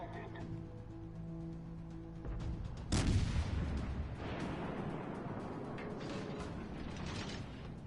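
A battleship's main guns fire in World of Warships with one heavy, booming blast about halfway through. A low mechanical hum and rumble run beneath it and continue afterward.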